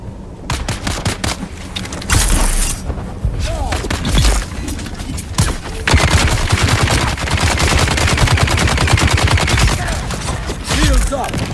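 Rapid bursts of video game gunfire rattle through a sandstorm survival game, dense and continuous with sharp repeated shots layered over busy background action, loud and close throughout.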